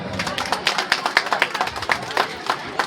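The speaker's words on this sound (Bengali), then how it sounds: "একটু রিঙ্কি দির জন্য জোরে হাততালি।" An audience at a community event clapping for a woman called Rinki, a scattered burst of claps, some louder than others, heard close.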